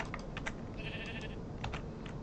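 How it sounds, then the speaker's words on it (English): A sheep in the Minecraft video game gives a short bleat, heard over soft background noise and light clicking taps, with no talking. "So we're gonna give Bill some wheat because he's been a good sheep."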